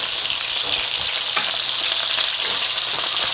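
Handmade sun-dried tomato gnocchi toasting in a hot pan, giving a dense, continuous loud sizzle and crackle that stays steady throughout, close up and with no voices.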